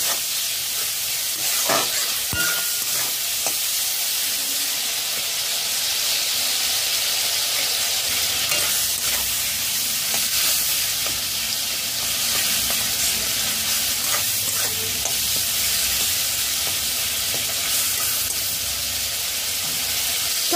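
Cauliflower roast sizzling and frying steadily in a pan with occasional stirring scrapes, a continuous close hiss with no talk.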